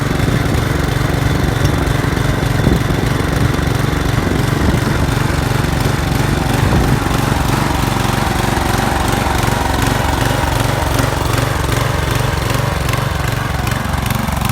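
An old rear-engine riding lawn mower runs loud and steady at close range, its engine drone continuous throughout with a rough, rattling throb and no talk over it.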